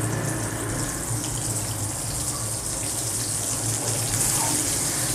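Shami kebab patties of minced meat fry in hot oil with a dense, continuous, fairly loud sizzling hiss that holds steady throughout, with no talk.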